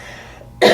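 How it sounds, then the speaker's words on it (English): A man gives a single short, sharp cough that bursts out abruptly after a moment of quiet room tone, close and loud. "I feel a cough."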